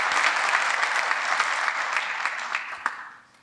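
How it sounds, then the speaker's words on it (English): Applause from the audience at an annual town meeting, a loud, close wash of many people clapping that holds steady for a few seconds, then thins out and fades at the end. "If we could give him a round of applause."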